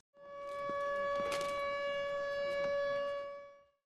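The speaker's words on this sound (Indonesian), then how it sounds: "Diikuti dengan bunyi sirine kota yang menandakan bahwa kota sedang dalam bahaya" A steady, loud city warning siren holds a single sustained wailing tone, unbroken for several seconds with faint background noise.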